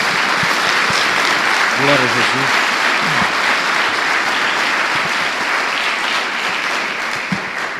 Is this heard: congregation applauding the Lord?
yes